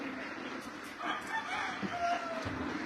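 A poultry farm with chickens and ducks in the early morning, where a rooster crows and hens cluck at a moderate distance under steady low background noise.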